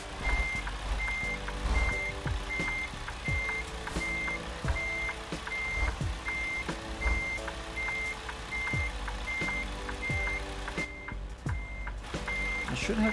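In Euro Truck Simulator 2 a truck backs into a parking spot, its reversing alarm beeping in a steady, evenly spaced pulse over a continuous diesel engine drone, with a faint hiss of air brakes.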